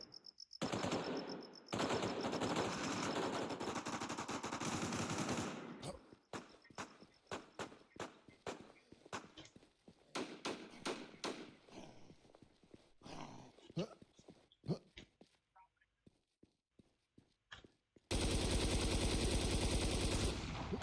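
Loud game gunfire in the online survival shooter Infestation: sustained automatic bursts open and close the stretch, with scattered single shots and short volleys between them in the middle.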